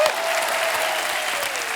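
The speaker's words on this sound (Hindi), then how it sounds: "जोरदार तालियां होनी चाहिए" Dense applause from a crowd, loud and continuous throughout, with a brief tone fading underneath.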